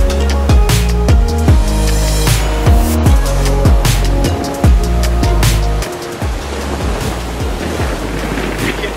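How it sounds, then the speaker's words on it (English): Strong wind buffets the microphone on an ocean beach in Olympic National Park, with loud rumbling gusts and surf crashing throughout, dominating the whole scene. "You can't hear me because of how windy it is"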